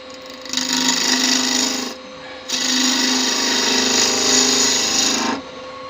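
A bigger gouge cuts wood on a lathe while turning a Christmas tree with a star, giving a loud, steady scraping whir that pauses briefly midway, then resumes and runs on before stopping.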